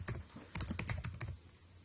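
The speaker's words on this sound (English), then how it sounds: "And then you go ahead and type in the date." Quick, irregular keystrokes on a computer keyboard type out a date at close range, fairly soft, in two short bursts separated by a brief pause.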